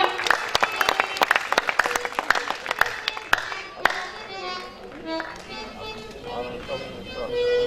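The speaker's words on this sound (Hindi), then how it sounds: "एक बार जोरदार तालियां" A stage-event audience breaks into loud, dense clapping that rings out for several seconds, then thins and fades as the crowd settles, leaving a lingering hum beneath.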